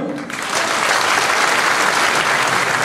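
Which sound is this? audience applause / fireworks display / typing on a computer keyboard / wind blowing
audience applause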